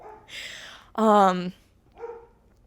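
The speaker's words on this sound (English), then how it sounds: "My dog is barking." A dog barks once, a single loud clear bark near the microphone, between quieter yelps or voice sounds in an indoor room.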